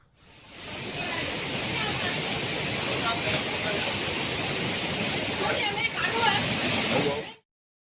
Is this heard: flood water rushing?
yes